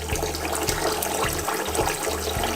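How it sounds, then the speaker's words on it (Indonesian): Running water pours and splashes continuously while soybeans and black beans are rinsed for tempeh, with soft rhythmic thumps of the beans being swirled and rubbed. "Lanjutkan mencuci sampai airnya jernih ya."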